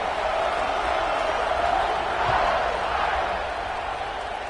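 Stadium crowd in the NCAA 26 college football video game roars steadily at kickoff, a dense, sustained wash of cheering that holds at an even level for several seconds before easing slightly.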